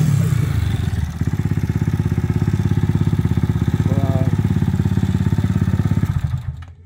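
Honda CG 160 motorcycle bored out to 240cc with a 67 mm piston and a single ring, its engine revving hard with a loud, rapid, steady pulsing beat for about six seconds before cutting off, heard close up.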